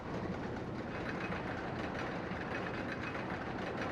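A roller coaster train in the RollerCoaster Tycoon game rolls steadily along its track, giving a continuous rumbling clatter with a dense, even roar that stays loud throughout, with no voices.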